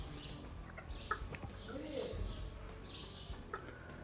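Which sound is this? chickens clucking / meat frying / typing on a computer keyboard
chickens clucking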